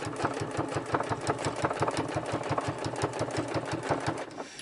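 A sewing machine stitching a fabric cover for a junk journal, running fast and steady with a tight, rapid mechanical clatter close by and no talking.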